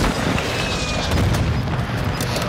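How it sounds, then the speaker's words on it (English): Airstrike explosions in the game Warzone 2 form a steady, loud, rumbling boom with dense low-end roar that holds for the whole moment, with no clear separate blasts. "There's an airstrike inbound."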